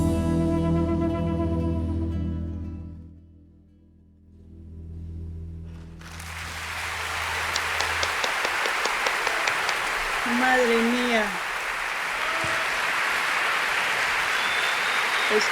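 Applause from an audience in a played music recording swells after the sung passage fades, a dense steady clatter of clapping mid-loud under a voice speaking over it.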